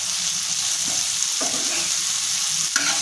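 Ivy gourd (tondli) frying in an oiled pan with a lid, a continuous bright sizzle broken by a few scraping stirs and clacks as the pieces are flipped, no voices.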